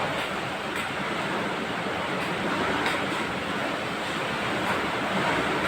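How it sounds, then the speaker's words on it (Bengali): Strong wind roars in a constant, heavy rush of noise, buffeting without pause and with no one speaking. "প্রচুর হাওয়া দিচ্ছে ভীষণ"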